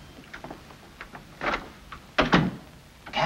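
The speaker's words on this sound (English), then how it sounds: "Want this door closed?" A door in a 1951 western film closes indoors: a few light clicks and shuffles, then a solid thunk and a second heavier knock as it shuts, fairly close and with no talking.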